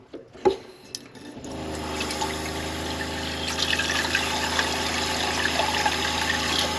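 RV sink faucet turned on after a couple of soft clicks, then water pouring steadily and loudly into the basin, running continuously with a faint background hum.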